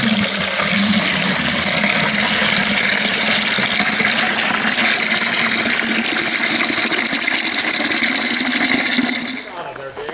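Steady rushing water pours loudly into a container for about nine seconds, then tapers off abruptly near the end.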